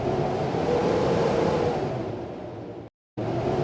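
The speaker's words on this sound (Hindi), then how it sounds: "बाहर से हवा के तेज झोंकों की आवाजें अभी भी आ रही थीं।" A broad, steady roar of strong wind gusts blows outside, loud and continuous, with a brief total dropout near the end before resuming.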